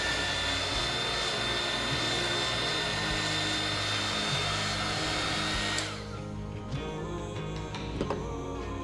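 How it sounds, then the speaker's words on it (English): A heat gun melting the top of a candle's wax gives a loud, steady blowing whine with a high tone, close up, then cuts off abruptly near the end, leaving quiet handling noises. "So I'm just gonna go ahead and heat gun the top here."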